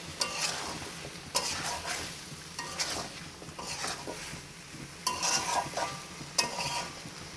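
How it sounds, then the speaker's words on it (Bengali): Soft fish fries in a pan with a constant low sizzle, while a utensil gently stirs it in a few distinct scraping strokes that recur every second or so, close by. "এগুলো দিয়ে একটু নাড়াচাড়া করে নেব কারণ বেশি নাড়াচাড়া করলে কিন্তু এই যে মাছগুলো আউলিয়ে যাবে"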